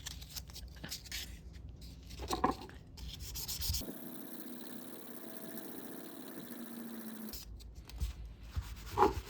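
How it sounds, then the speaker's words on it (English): 1000 grit sandpaper rubs in quick, repeated strokes against the head of an old half-inch ratchet, raspy scratching that stops for a few seconds behind a steady hum and then resumes. "next sanded it with 1000 grit sandpaper"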